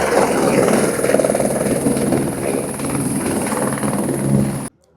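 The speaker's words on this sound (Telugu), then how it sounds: "అగో హెలికాప్టర్ అయితే వస్తుంది" A helicopter's loud, steady rotor thrum and engine whine fill the air close by at Rushikonda Beach during a ride, holding constant before cutting off abruptly at the end.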